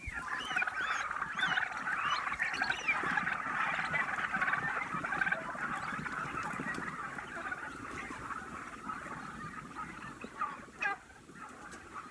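A flock of hungry turkeys gobbles and chatters continuously at moderate distance while feeding, a dense murmur of bird calls with no talking.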